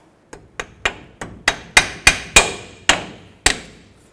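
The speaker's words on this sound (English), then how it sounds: "So get a little hammer and tap those on." A small hammer taps brake pads onto a caliper on a 1997-04 Dodge Dakota, ten sharp metallic strikes in a loose rhythm that grow louder, each ringing briefly, close and alone.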